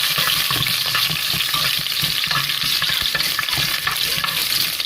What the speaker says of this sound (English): I'm gonna fry some of the green pepper, and I'm gonna fry some onion.